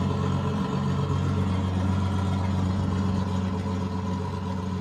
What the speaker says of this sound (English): I'm going to turn the engine volume down a little bit